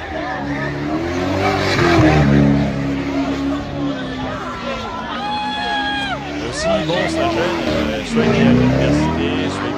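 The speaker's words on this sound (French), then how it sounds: "on va lui piquer sa voiture et on va aller faire des dérapages avec sa bagnole" A car doing skids and donuts on a bridge, engine revving and tires squealing loudly and close, with a crowd chattering and voices talking throughout.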